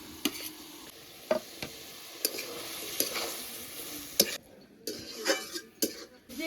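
Mixed fresh vegetables fry with prawn masala in a pan, a low sizzle broken by sharp, irregular spatula scrapes and clacks as they are stirred, close and with no talking.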